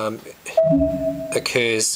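A steady electronic email notification tone chimes briefly between bursts of speech, a short alert-like sound sitting under and between the talking.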